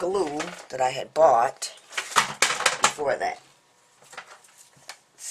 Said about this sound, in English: I dropped the tape gun.